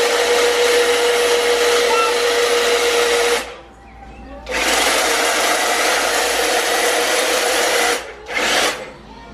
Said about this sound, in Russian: Косим травку.